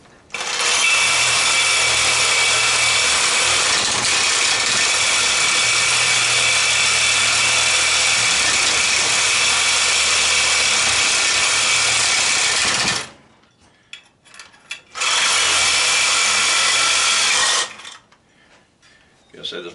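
A saw blade cutting through an air compressor part clamped in a vise, a loud continuous rasping that runs for about thirteen seconds, stops, then returns briefly before quiet.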